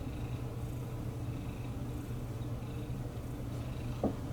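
A steady, low rumbling purr from a cat, continuous and close, with a brief soft bump near the end.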